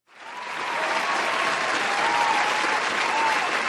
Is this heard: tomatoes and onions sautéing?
no